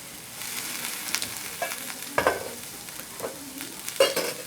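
Cut potato and cabbage stir-frying in a pan, with repeated scraping strokes of a spatula over a soft, steady sizzle. The stirring comes in uneven bursts, close and clear, and no one speaks.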